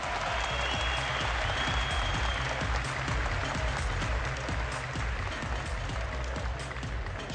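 A fight audience at a MAXFIGHT event applauds the winner of a bout decided by guillotine choke, with sustained dense clapping and crowd noise filling the whole stretch at steady loudness.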